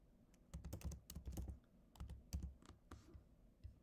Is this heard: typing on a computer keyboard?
yes